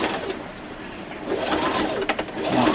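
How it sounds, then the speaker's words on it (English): A sewing machine stitches a dart in fabric for a red zip-front jumpsuit, a quiet close whirring run with a few short mechanical ticks and bursts, faint overall. "now we're going to sew the dart in place."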